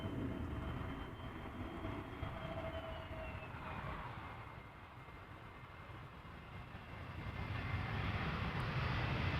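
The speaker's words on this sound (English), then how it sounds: "Textbook landing." An airliner lands at Amsterdam Schiphol Airport, a distant, steady engine roar and rumble that dips slightly midway and swells again toward the end.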